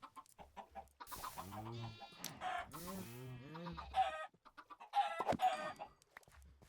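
Chickens cluck in Minecraft, several short rhythmic bursts of clucking and squawks spread across the clip, close and fairly loud, with brief gaps of quiet and other game sounds between them.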